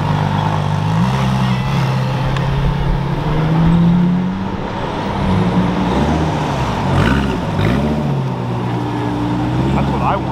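A LaFerrari and a Lamborghini SVJ supercar drive with a loud, deep engine drone whose pitch rises and falls with revving, heard close and continuous.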